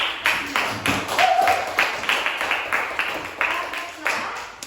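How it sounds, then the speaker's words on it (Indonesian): Students in a classroom clap their hands together in a rhythmic, fairly close burst of claps repeated in quick pulses, with faint voices underneath. "tepuk tangan sekali lagi"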